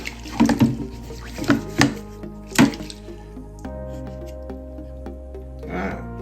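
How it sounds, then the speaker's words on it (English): Warm soapy water splashing and sloshing as degreaser is washed off a Triumph Street Triple 675 motorcycle engine case protector, several close splashes followed by quieter running water. "get some fresh clean warm water, a few bubbles, just wash all the degreaser out"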